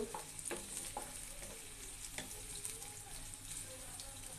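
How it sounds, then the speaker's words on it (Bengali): Onions and green chillies frying in hot oil for a mixed five-vegetable bhaji, a steady, fairly quiet sizzle with occasional stirring scrapes throughout and no voices. "কিছু পেঁয়াজ আর মরিচ দিয়ে দিব আর তেলটা গরম হয়ে আসছে এবার আমি একটু একটা বাদামি কালার করে ভেজে নিব"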